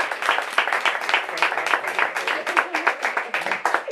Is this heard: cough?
no